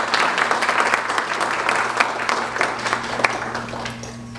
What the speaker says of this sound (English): Please, a big applause for APA here.